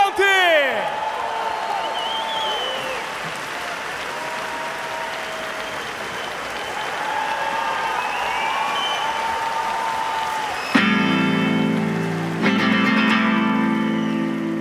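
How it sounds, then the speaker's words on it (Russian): A concert crowd at a show applauds in a broad sustained wash, with voices and musical tones over it before amplified music kicks in near the end. "Ваши аплодисменты!"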